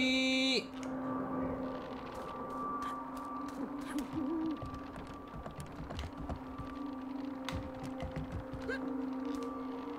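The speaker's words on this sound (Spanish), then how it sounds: "hay un búho" A steady hooting owl in the video game Never Alone (Kisima Ingitchuna), a sustained tone over ambient game wind and faint clicking, fairly quiet and continuous with no talk.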